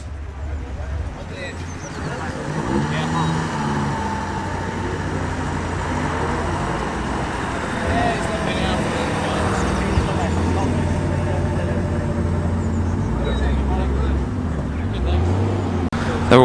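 Cars roll into a busy breakfast car meet, engines rumbling and passing one after another for a long stretch, with a crowd and someone talking over the traffic noise throughout.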